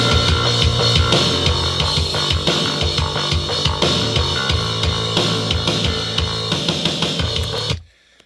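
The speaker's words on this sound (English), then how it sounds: "here's what it'll sound like with the drums and the bass together." Drums and bass from the chorus of a rock song play together in a mix with no other instruments, loud and steady throughout before stopping abruptly near the end.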